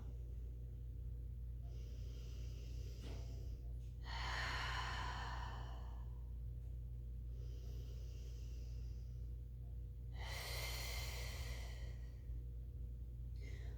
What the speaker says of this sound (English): Focus on your breath, feeling the lateral expansion of your torso as you inhale